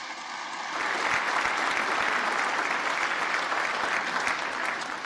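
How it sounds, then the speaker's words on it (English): Applause breaks out from an audience during a political speech at the election of a House Speaker, dense and steady clapping rising quickly after a short lull and continuing throughout. "That's an applause line."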